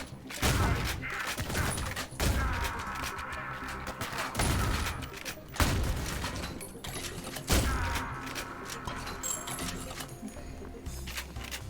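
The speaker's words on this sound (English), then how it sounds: "Who's shooting at me?" Gunfire in the Ion Fury video game comes as repeated dense bursts every couple of seconds, loud and close, with brief gaps between volleys.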